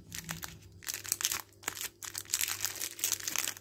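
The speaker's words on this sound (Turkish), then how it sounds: "tablet deterjanımızın poşetini çıkartarak" A plastic wrapper is pulled and torn off a dishwasher detergent tablet, giving close crinkling and crackling bursts with brief pauses, quiet and alone.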